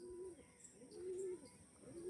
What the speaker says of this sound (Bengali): দেখুন পায়রা দেখুন